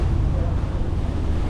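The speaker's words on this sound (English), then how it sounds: "We got both engines running now." Twin boat engines running together on a small vessel carrying jerry cans of fuel, heard as a steady low rumble mixed with wind buffeting the microphone and water noise, continuous throughout.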